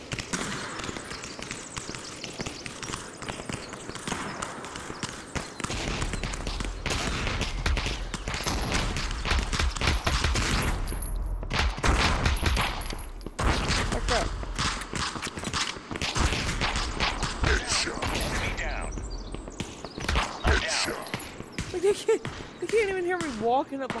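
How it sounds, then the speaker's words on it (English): Suppressed gunfire from a silenced gun in the VR shooter Aim XR pops in dense, rapid bursts almost without pause, loud and close, mixed with game noise and a talking player. "This is definitely what the silencer is."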